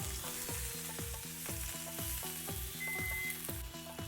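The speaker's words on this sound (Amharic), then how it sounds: "ገልበጥ አድርገን ትንሽ በመጥበሻ ላይ እናበስለዋለን።" A turmeric-coated cauliflower steak sizzles and fries in a pan, a steady crackling hiss with rhythmic repeating pulses throughout, no talking.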